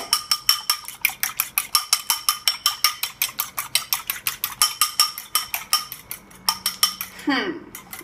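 Eggs with salt are beaten in a bowl, a fast, steady run of sharp clinks as the utensil strikes the side, close and clear, continuing for several seconds before stopping abruptly.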